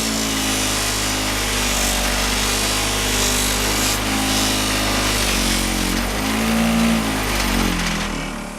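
A motorized polishing wheel buffs an aluminum handlebar riser, giving a loud, continuous whirring and rubbing drone that shifts slightly in pitch as the part presses against the spinning wheel.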